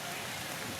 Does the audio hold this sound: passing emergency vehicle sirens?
no